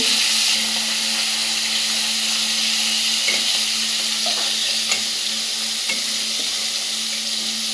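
Steady loud sizzling of fish frying in hot oil, a continuous hiss with occasional small pops and stirring clinks.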